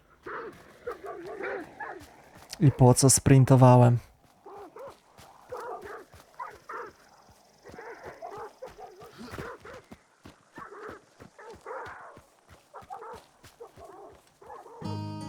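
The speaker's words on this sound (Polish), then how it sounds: "Psy." Dogs barking in Hunt: Showdown 1896, a loud burst of several sharp barks near the start, then the player talks at length over quieter game sounds.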